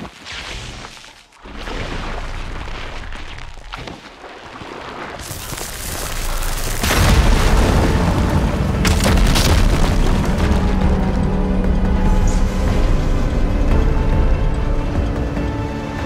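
Fire gleam on rocks in Horizon Forbidden West ignites and explodes in a loud, sustained roaring blast that swells into a long, dense rumble of debris.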